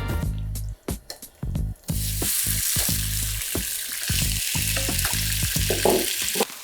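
Chicken pieces frying in a pan, bursting into a loud, steady, close sizzle after a few seconds of clunks and stirring, then hissing continuously with occasional stirring noises.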